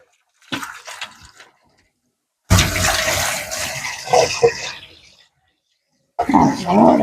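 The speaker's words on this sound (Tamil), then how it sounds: "இப்போ உருளைக்கிழங்கு கழுவ போகிறேன்" Cut potatoes are washed with water in a kitchen, a close, loud gush of running and splashing water for a few seconds, followed by another short burst, with a person speaking briefly before it.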